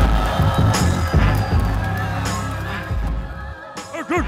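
A crowd at a freestyle rap battle event cheers and makes noise for an MC, with loud, sustained clamor, whistles and shouts that thin out toward the end.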